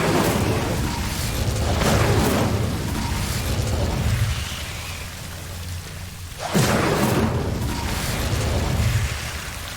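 The Incendio fire spell cast in Hogwarts Legacy erupts into a loud, dense whoosh of roaring flame that fades and then bursts up again with a sharp second blast.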